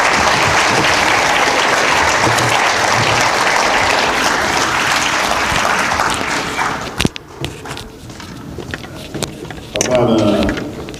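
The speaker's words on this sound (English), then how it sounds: "Let's give him another round of applause." Audience applause at a Saviors' Day gathering fills the room as loud, sustained clapping for several seconds, then thins into scattered claps and shuffling, with a short burst of renewed clapping near the end.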